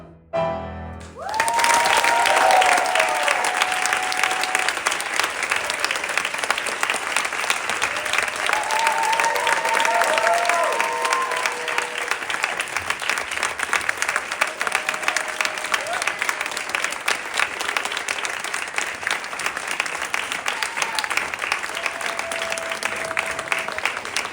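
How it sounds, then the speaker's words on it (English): Theatre audience at a new-works musical showcase in New York applauding the cast: sustained, dense clapping from a full house lasting over twenty seconds, loud and even, with scattered whoops and voices rising through it. "Let's give them one more round of applause."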